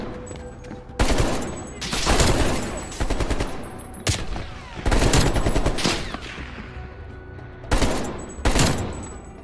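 Automatic gunfire in the video game Call of Duty: Black Ops Cold War on PS5. Several loud, sharp bursts of rapid fire are separated by short quieter gaps with faint background ambience.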